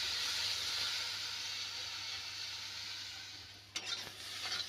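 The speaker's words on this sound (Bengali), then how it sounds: "আলুটা নাড়ছি, এবারে লাল করে নাড়ছি" Diced potatoes stir-fried in a pan with a little salt, giving a steady close oil hiss with soft scraping; a few sharper clacks near the end.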